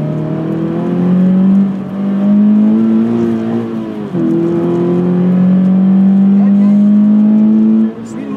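Car driven hard around a cone course at a driving school training track in St-Eustache, engine droning steadily with rising and falling revs as it corners, with an instructor talking over it throughout.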